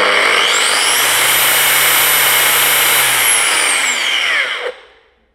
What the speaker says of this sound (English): So I switch it on and see how fast it comes to and stop.